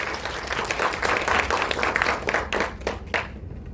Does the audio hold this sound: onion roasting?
no